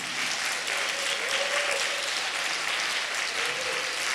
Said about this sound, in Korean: 박수로 우리 Chinese CM 성도님들.